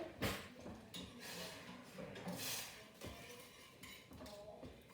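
A spoon picked up and handled while topping street tacos with tomato and green chili, giving light clinks and clatters of metal against dishes, with scattered knocks and shuffling at close range.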